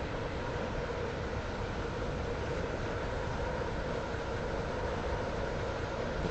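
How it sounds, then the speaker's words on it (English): A train running on the Roblox Stepford County Railway, heard as a constant, loud, broadband rumble and rail roar with no breaks, close to the listener and with no voices. "This train is now approaching Benton."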